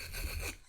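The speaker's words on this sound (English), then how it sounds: "Rough up the smooth side of the piece of leather that I've got in, I'm going to be gluing in there. Just by scraping it a little bit." A short, close, dry scrape rasps across the smooth side of a piece of leather, roughing it up for gluing. It is one quiet stroke lasting under a second.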